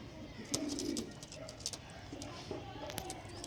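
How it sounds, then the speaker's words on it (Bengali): Long-bodied fancy pigeons of a red-necked breed coo softly and steadily at close range, over a low, busy background hum with a few brief knocks. "দেখো পায়রা, দেখো পায়রা থাকতে চাইছে না"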